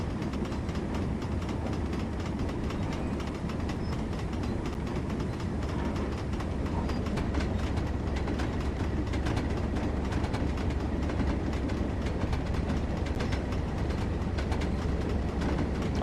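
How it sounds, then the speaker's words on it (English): Class 37 locomotive bogies and wagons rolling on the Tees Valley Line in Train Sim World: a continuous heavy, low rumble with steady rail clatter, loud and close throughout. "those bogie sounds are really good. You can really hear the weight behind them."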